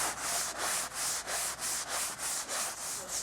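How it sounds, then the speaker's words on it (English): A sanding sponge rubs over dried joint compound on a drywall patch, making nine even back-and-forth scratchy strokes in a steady rhythm, close and fairly quiet. "You want to sand evenly and gently."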